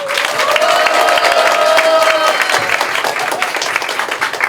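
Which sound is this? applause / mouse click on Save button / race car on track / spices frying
applause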